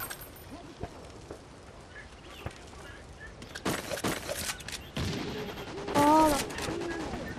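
Gunfire in Call of Duty: Ghosts team deathmatch on the Prison Break map, scattered single shots early on and then dense bursts of automatic fire with in-game effects, moderately loud.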